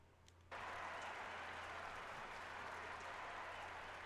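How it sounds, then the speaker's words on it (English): Crowd applause in the Trails of Cold Steel video game bursts in suddenly after a quiet half second, then holds as loud, dense, continuous clapping to the end. "the crowd just erupts into applause"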